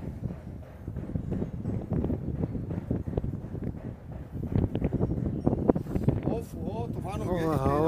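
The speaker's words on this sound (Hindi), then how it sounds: "जबरदस्त हवा चल रही है।" Strong gusting wind buffets the microphone on an Old Delhi rooftop near Fatehpuri Masjid during pigeon flying, a steady broadband roar with louder gusts, while people talk loudly over it throughout.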